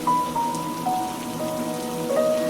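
Steady monsoon rain beating on clay roof tiles of a traditional Konkan house, a dense continuous patter with a few sustained tonal hums running through it, no talk.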